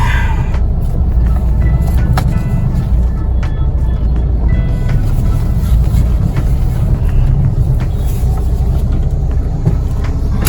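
A car driving slowly forward along a street during the coronavirus lockdown in India, its steady engine and road rumble loud and continuous throughout, with faint traffic and scattered clicks in the background.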